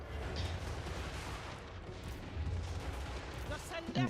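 Crane gunners fire on the battlefield in Total War: Warhammer 3, with repeated booming shots and rumbling gunfire over constant battle noise.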